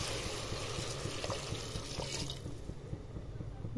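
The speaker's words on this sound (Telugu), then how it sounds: "వాటర్ వేస్తున్నాండి." Water is poured into a pot of mutton curry with chili powder, a close splashing gush that thins and fades partway through before settling into quieter trickling.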